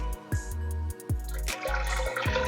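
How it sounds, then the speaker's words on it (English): Thickened pot roast cooking liquid poured back into the pot, a loud, steady glugging stream broken by a few brief pauses and splashes. "We're going to pour it back in the pot now."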